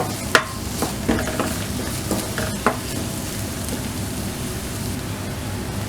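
A chopped medium-sized onion fries in a pan toward light brown for a prawn curry, with a soft continuous sizzle broken by occasional sharp clicks and taps of a stirring spoon.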